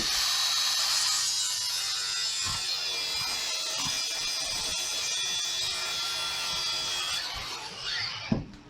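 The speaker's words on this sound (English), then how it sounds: "We can use the cutoff wheel on the grinder." An angle grinder's cutoff wheel slices through PTFE hose, giving a steady, loud high-pitched grinding whine for about eight seconds before it breaks off into a few short clunks at the end.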